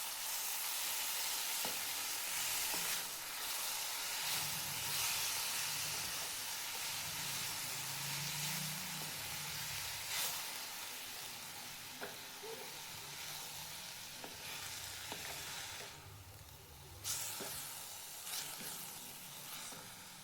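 Chil (lamb's quarters) greens frying in a pan and being stirred, a steady close sizzle and hiss with scraping stir strokes running throughout, no voices.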